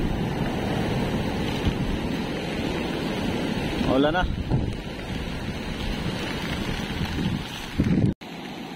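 Surf rolls in along a shoreline as the waves begin building, a steady broad wash with strong wind buffeting the microphone throughout, and a person speaks briefly partway through.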